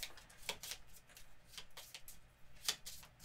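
A deck of cards is shuffled during a tabletop game of Gloomhaven, giving quick, close riffling bursts and soft flicks in a short irregular sequence, with no talking over it.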